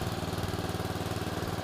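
A screw drive off-road vehicle's engine runs steadily in second gear moving forward, a close, continuous low mechanical drone with a fast even pulse and no voices.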